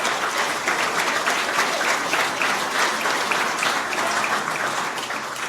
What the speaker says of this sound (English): Let's give CIBC a big round of applause